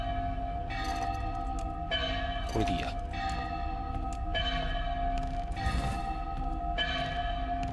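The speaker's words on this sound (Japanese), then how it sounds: "もしかしたらこの鐘の音がすごいうるさいかもしれないですね" A bell rings out repeatedly in regular, resonant strokes that sustain a steady tone, while a person talks quietly over it.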